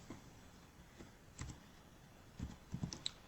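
Keys on a computer keyboard are typed in Excel, producing a few faint, close clicks in a short, uneven burst, with no talking.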